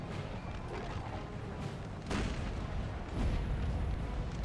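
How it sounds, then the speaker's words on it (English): Artillery and massed musket gunfire in the Napoleonic battle game Napoleon Total War, a dense continuous roar of booms and crackling volleys that swells louder toward the end. "France is firing"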